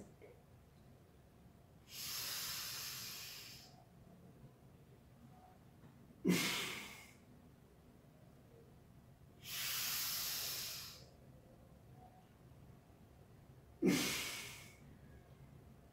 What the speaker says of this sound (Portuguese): Inspira pelo nariz para pegar o aroma e solta pelo nariz, expirando, apagando a chama dessa vela.